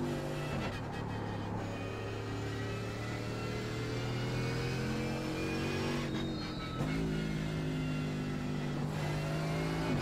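Mercedes AMG GT3 race car in the iRacing sim at Zolder, a loud continuous engine drone with sustained harmonic pitch, shifting down around mid-clip then holding steady at high revs, no speech.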